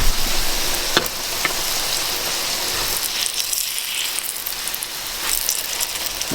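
Burger patties sizzle loudly and steadily in a hot pan, a close, dense crackle that carries on throughout, with a sharp clack near the start as one is set down.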